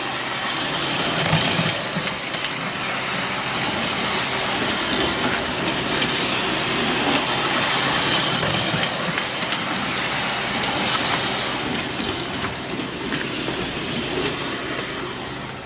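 A prewar Lionel 254 toy electric locomotive running on a small loop of track indoors, giving a continuous, even motor whir and rolling hum close to the microphone, with no talking.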